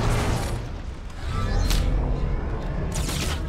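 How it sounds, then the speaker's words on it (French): Sniper rifle shots fired in a Fortnite: Battle Royale match, with two sharp booming cracks standing out over dense, continuous in-game noise. "la balle de snipe qui m'a mis cher de ouf"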